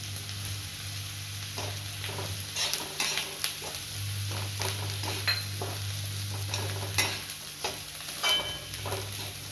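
Grated coconut and masala sizzle steadily in hot oil for masala upma, with scattered spoon scrapes and stirring clatter against the pan under a low hum.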